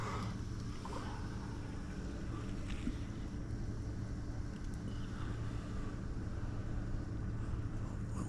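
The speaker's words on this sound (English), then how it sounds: "if I hear the water run through, it means I don't need to go find the outside water tap" Water runs through a boat's inlet, a faint, steady wash with a low rumble underneath, continuous throughout with no talking.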